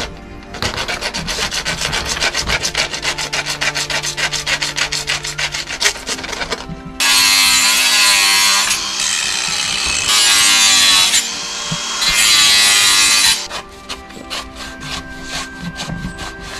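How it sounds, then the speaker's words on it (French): A hand wood rasp files a piece of wood in steady rapid strokes, close and loud, first as a fast rhythmic scraping and then as longer, harsher rubbing passes with short pauses between them. "je vais prendre une lime à bois"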